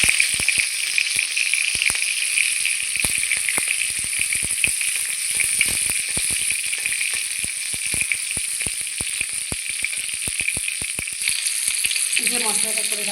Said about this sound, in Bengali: তেলের মধ্যে দিয়ে দেব কাঁচা লঙ্কা আর টমেটো।